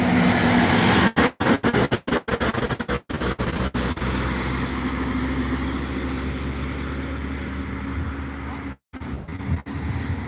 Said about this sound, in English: It's a logging truck.